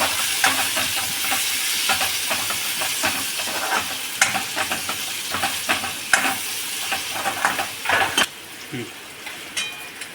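Finely chopped tomatoes hit frying onions in a pan, and a loud, close sizzle crackles steadily. Scraping stirs punctuate it, and the hiss eases toward the end.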